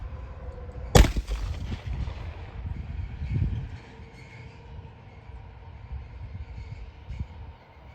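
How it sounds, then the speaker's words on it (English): A DixieThumper MILC 2.0 launcher fires a smoke projectile outdoors: one sharp, loud pop near the start, followed by rumbling wind and low background noise. "I'm gonna fire."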